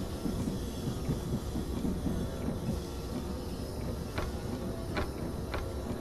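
A train pulling into Soest station on the Midden Nederland route in Train Simulator 2014 gives a steady, loud low rumble, with a few faint clicks toward the end and no voices.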